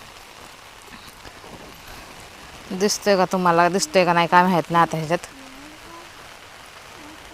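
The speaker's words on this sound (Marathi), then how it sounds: "बाहेर पाऊस चालला आमच्या इथं दाखवते तुम्हाला" Steady light drizzle on a rainy day, a soft continuous wash of rain outside heard throughout, with someone speaking over it in the middle.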